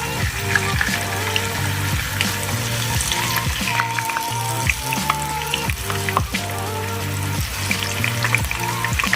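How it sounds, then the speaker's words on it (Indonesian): Tofu frying in hot oil for a shrimp-and-tofu dish, a dense steady sizzle and crackle with faint clinks of stirring, loud and close throughout with no talking. "sudah panas, jadi kita masukkan tahunya, kita goreng"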